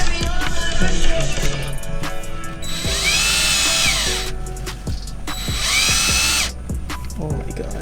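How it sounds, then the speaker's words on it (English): A power drill whines in two bursts of about a second each while a front lip is fitted to an 8th-generation Toyota Camry that sits unlifted on the ground. Voices talk nearby between the bursts. "the drill would not fit under the car because it's not lifted up on a jack"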